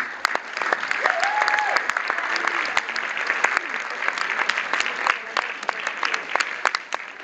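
An audience applauds the teams after a creative game final, dense clapping with sharp individual claps standing out, sustained throughout at a fairly even level, with some voices faintly audible within it.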